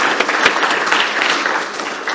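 An audience at a World Poetry celebration applauding, a short dense burst of clapping from many hands at moderate volume.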